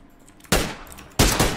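Two loud, close bursts of AK rifle fire from a video game, each a sharp crack with a short decaying tail, about half a second apart, with no voices.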